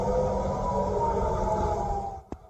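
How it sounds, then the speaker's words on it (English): An air raid siren sounds over Tel Aviv at night, a sustained, steady wailing tone heard from a distance that fades out near the end, followed by a single sharp click. "Sirens ring out in Tel Aviv overnight."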